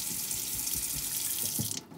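A paint brush is rinsed under a running tap, with steady, loud rushing water close by for about two seconds before the flow abruptly stops.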